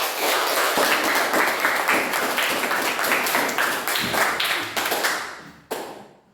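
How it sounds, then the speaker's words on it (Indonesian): An audience bursting into applause at a classroom teaching session, dense continuous clapping from many hands filling the room, steady at first and then thinning out and fading toward the end. "berikan aplaus buat"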